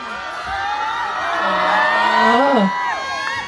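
A party crowd cheers and whoops for a band at a 12plus Shower Sexy Party event, a loud sustained mass of voices that swells toward the middle and fades slightly at the end.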